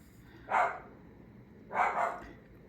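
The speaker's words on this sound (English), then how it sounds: "Bark, bark, bark, bark. Bark, bark." A pet dog barks twice indoors, each bark a short, moderately loud burst about a second apart, with a quiet room otherwise.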